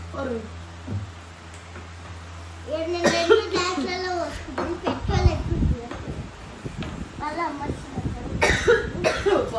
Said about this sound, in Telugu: దగ్గు.